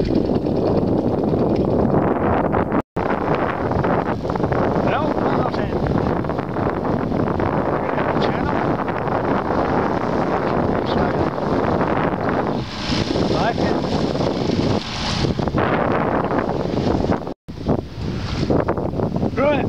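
A ferry under way on an open, windy crossing, with constant loud wind buffeting the microphone over engine and water rush that stays close and steady throughout.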